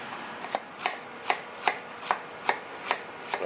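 Knife chopping cabbage on a board for okonomiyaki, about nine crisp, evenly spaced strokes at a steady moderate pace, close and clear with no talk.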